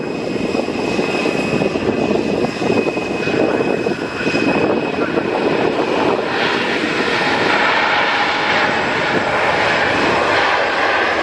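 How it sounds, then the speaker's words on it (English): Wizz Air Airbus A321 landing at Luton Airport on a summer evening, its jet engines roaring loudly and steadily close by for the whole stretch, with no voices. "a bit of tippy toes there on the Wizz Air Airbus A321"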